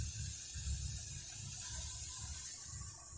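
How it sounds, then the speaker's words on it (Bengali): Water splashes into a spice paste frying for palak paneer, giving a steady loud hiss and sputter of steam with low bubbling underneath, close by and without talk. "এবার আমি এর মধ্যে দিচ্ছি জল। এটা আমাদের ওই পেস্ট ধোয়ার যে জলটা ছিল ওটা দিয়ে দিচ্ছি।"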